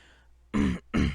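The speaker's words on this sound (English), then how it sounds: "I'm sorry for clearing my throat a bunch." Two sharp, loud throat-clearing rasps follow a brief soft sound, close to the listener with a short gap between them.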